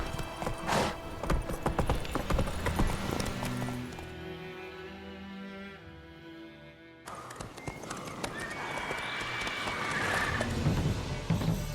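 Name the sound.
horse Roach galloping, The Witcher 3 video game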